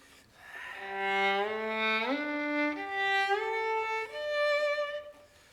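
A solo violin plays a smooth, sustained melodic passage, the notes changing cleanly in steps without sliding, close and clear.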